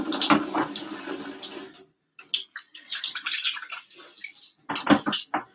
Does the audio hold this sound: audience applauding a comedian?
no